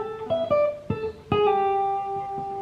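A guitar riff, with a few clean, close single-note plucks and slides ringing out and sustaining, played alone and fairly soft.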